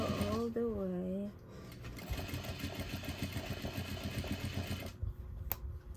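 Sewing machine stitching a placemat, a steady rapid mechanical whirring with a fast ticking stitch rhythm that runs for several seconds after a short spoken phrase at the start.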